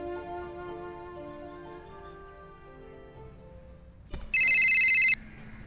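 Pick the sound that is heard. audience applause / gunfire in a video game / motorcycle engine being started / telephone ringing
telephone ringing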